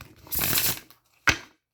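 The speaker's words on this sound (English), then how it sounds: "I'm going to shuffle." A fairly new, slightly stiff deck of reading cards being shuffled: a loud riffling burst lasting about half a second, then a short sharp snap of cards, close by with no talking.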